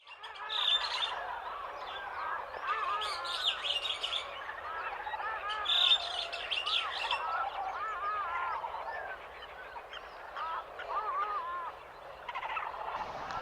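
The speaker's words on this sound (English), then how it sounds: "Near the water bodies were birds like the darter, kingfisher, and others." Birds call near water in the Gir forest, with darters and kingfishers among them: a continuous, fairly distant chorus of overlapping chirps and calls with a low rumble underneath.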